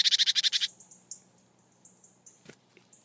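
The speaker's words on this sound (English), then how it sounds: "I've got this young great tit who's decided to take a fancy to me" A young great tit calling at close range, a quick burst of sharp repeated chirps followed by thin high squeaky notes and a couple of soft clicks, with no voices.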